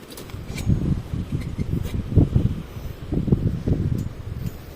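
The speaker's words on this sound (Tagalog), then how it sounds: "Kasi yan, sobrang hangin talaga." Strong gusty wind in France buffeting the microphone in low rumbling bursts, steady and close, with no voices.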